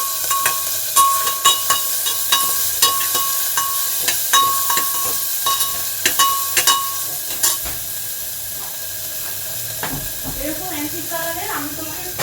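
Crushed ginger and chopped garlic sizzle in a pan with a steady hiss. A utensil clicks and taps against the pan in a regular beat, and a voice speaks near the end.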